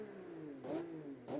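An old grand tourer's engine in BeamNG.Drive revs twice, with two short swells rising over a steady idle drone, close and fairly quiet.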